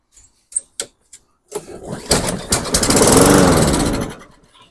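A small lawn mower engine cranks after a shot of quick-start spray: a few sharp pulls and clicks, then it catches and roars loudly for about two seconds before sputtering and dying away.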